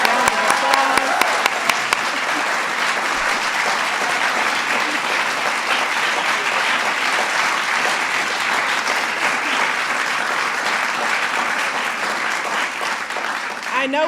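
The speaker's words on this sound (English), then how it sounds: "Let's give them another round of applause." Sustained audience applause at a White House event honoring the National Student Poets, steady dense clapping filling the room for about fourteen seconds, with a few louder claps at the start and a voice briefly heard early on.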